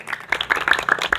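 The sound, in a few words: students clapping hands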